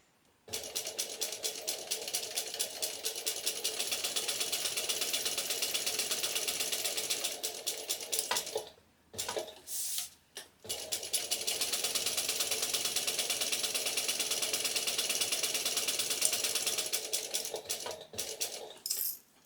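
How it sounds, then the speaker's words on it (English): A sewing machine back stitching fabric runs in a fast, steady mechanical chatter, pausing briefly and restarting in short bursts before running on, close and clear. "I'm going to back stitch."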